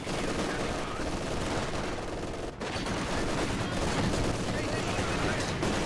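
Artillery barrage in a World War II video game match, a dense, continuous roar of overlapping blasts and gunfire rumbling loudly throughout with barely a break.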